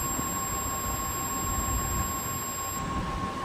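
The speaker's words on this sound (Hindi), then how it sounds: "एक पॉइंट पर बीप और दूसरे पॉइंट पर वैल्यू" A multimeter in continuity mode beeps while probing points on a mobile phone circuit board, giving a steady, unbroken electronic tone that holds for nearly three seconds over a background hiss and then cuts off.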